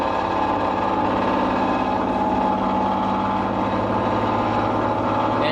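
A wound rotor induction motor runs after its contactor kicks in, giving a loud, steady electrical hum with layered tonal whine and no break throughout.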